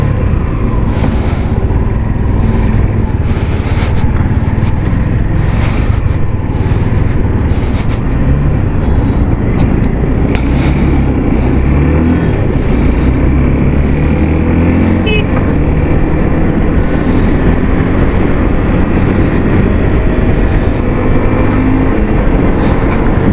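A yellow dirt bike engine running steadily, loud and close, with a dense low rumble sustained throughout and occasional brief higher bursts, no talking.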